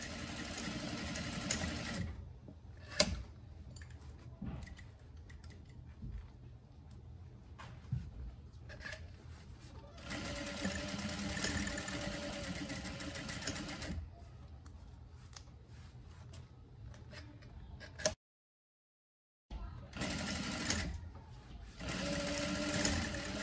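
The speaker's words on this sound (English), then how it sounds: "I'm just going to do some backstitch" A sewing machine backstitches elastic onto a skirt in several long, close, steady whirring runs separated by brief pauses and a short silent gap, with small clicks of fabric handling between bursts.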